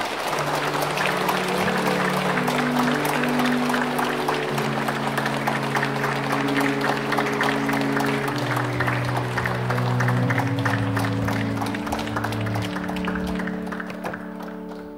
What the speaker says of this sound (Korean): 수녀님을 앞으로 모시겠습니다. 박수 부탁드리겠습니다.